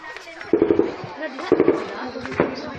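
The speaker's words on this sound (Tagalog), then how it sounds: "Maririnig sa video ito ang matinding putukan" Intense gunfire from a military clash between Philippine Army troops and NPA rebels in Negros Occidental, heard as bursts of sharp cracks and pops around the half-second, 1.5 and 2.4 second marks over a noisy, reverberant background.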